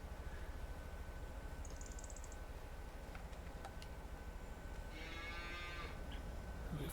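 Cattle in the Farming Simulator 25 game give a faint, distant moo or two over a steady low hum of farm ambience, with a few soft ticks in between.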